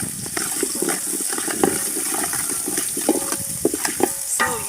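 Onions frying with salt in a pot in an African village kitchen, stirred with steady scraping strokes over a continuous close sizzle, a few clinks of the spoon against the pot.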